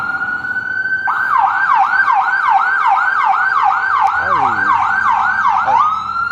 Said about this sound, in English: Evelyn's siren's on.